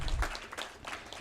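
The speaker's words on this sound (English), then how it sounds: "a big round of applause, please" Brief burst of audience applause at a civil society conclave on sustainability, short and moderately loud, fading quickly.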